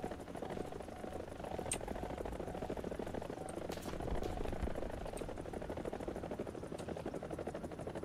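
A Soviet attack helicopter in the War Thunder combat game gives a steady, whirring rotor chop and engine drone that stays fairly loud and unbroken for the whole stretch.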